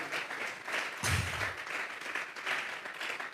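A church congregation claps together as an offering of praise during a Spanish-language service: steady, rhythmic applause filling the room, with a low thump about a second in.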